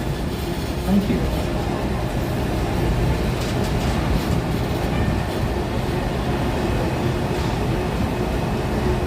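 A Disneyland tram rolls along with a steady low rumble and rattle that holds at an even level throughout, with faint background voices mixed in.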